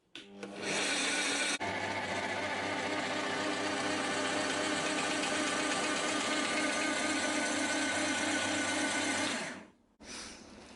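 Scheppach DP55 710W bench pillar drill running at 500 RPM: a steady motor hum and whir starting up, holding a constant loud tone for several seconds, then winding down and stopping before a brief click.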